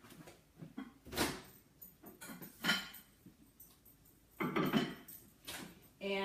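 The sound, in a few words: putting a pasta dish into the microwave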